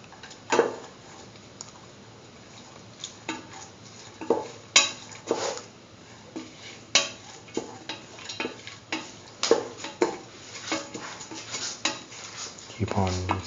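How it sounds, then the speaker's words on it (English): A spoon stirring a lentil mixture in a pot for curried lentil egg stew, with repeated close metallic clinks and scrapes in an uneven rhythm. "Mix the lentil thoroughly with the rest of the mixture."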